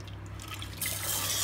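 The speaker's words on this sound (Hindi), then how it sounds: "उसमें हम थोड़ा पानी डाल देते हैं" Water poured into a hot pot while cooking dahi vada: a soft trickle at first, then a steady, louder hissing rush that keeps going to the end, close by with no talk.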